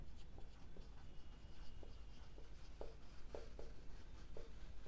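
Marker or chalk writes on a classroom board, giving soft, short scratchy strokes in scattered bursts. The strokes are faint and sit over a quiet room hum.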